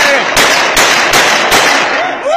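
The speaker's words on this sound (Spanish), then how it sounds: "Estos sí son cohetes, no lo que estás sacando" Firecrackers go off outdoors in a fast, loud string of sharp cracks and pops. Near the end a voice shouts over the bangs.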